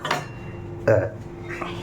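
A metal wok (kadai) is set down on a kitchen stove with a single sharp clank of metal against metal, short and close, amid light kitchen clatter.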